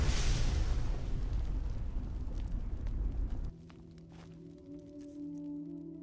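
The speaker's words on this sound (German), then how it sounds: "Der explodiert jetzt." A fire elemental explodes in the video game Enderal: a loud, rumbling burst that roars for a few seconds, then cuts off abruptly into quieter game ambience with faint tonal hums.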